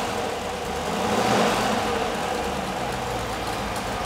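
A Rover V8 4.6-litre engine with a freshly jetted carburettor idles smoothly on a test cell at around 800 RPM, a steady low rumble with a slight swell partway through and no voices.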